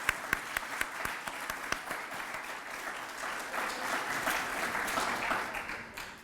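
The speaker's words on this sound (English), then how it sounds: "let's give them a round of applause for that" Applause from a crowd begins with a few sharp individual claps and swells into a soft, continuous wash of clapping heard from some distance.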